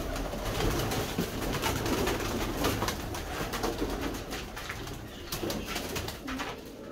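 Red-eyed pigeons coo softly amid a busy outdoor backdrop, their calls blending with steady ambient noise and other faint bird sounds.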